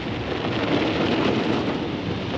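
Heavy rain pouring steadily during flooding in Jessamine County, Kentucky, a dense continuous roar of water with no gaps, loud and close.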